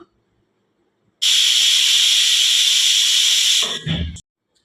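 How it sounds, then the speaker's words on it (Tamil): Steam bursts out of a pressure cooker after cooking ghee rice, a loud, steady, close hiss that holds for about two and a half seconds, then sputters and cuts off with a short low rattle. "இப்போ குக்கரில் கேஸ்லாம் நல்லா போயிடுச்சு"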